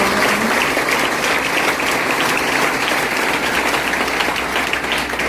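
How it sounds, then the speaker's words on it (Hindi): Steady, dense applause from a large audience at a constitution awareness programme event, many hands clapping continuously at even loudness throughout, with no voices standing out. "तो एक बार जोरदार तालियां देकर"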